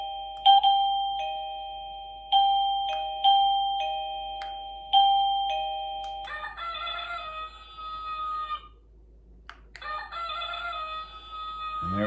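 An Avantek mini wireless doorbell plays its chicken chime: several ringing electronic tones, then a loud clucking, crowing rooster sound that repeats after a short pause.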